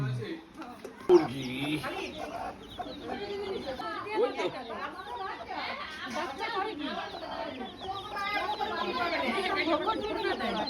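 Chickens clucking and calling around a farmyard where eggs are gathered, a steady busy chorus of fowl mixed with people talking throughout.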